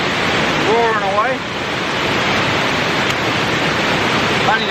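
A loud waterfall on a creek roars as a continuous broadband rush of falling water, close and constant throughout, with a brief faint whistle-like sound over it.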